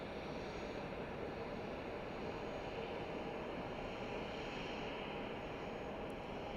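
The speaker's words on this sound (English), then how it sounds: "And that's a United Boeing 737-800 coming in from Denver, Colorado." United Boeing 737-800 jet arriving at Boise Airport from Denver, a faint, steady distant engine roar with broadband rumble and no voices.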